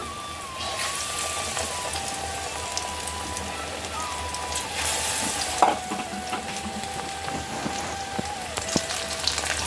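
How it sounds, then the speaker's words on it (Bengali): Battered pumpkin flower fritters deep-fry in hot oil, a steady crackling sizzle close by with occasional spatters and utensil clinks, and brief speech in the background. "ভাজা হচ্ছে তোমরা দেখতে পাচ্ছ"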